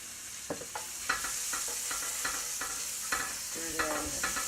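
Cauliflower rice fries in a pan with saffron and a pinch of salt while a spoon stirs it, giving a steady close sizzle punctuated by regular scraping knocks of the utensil against the pan.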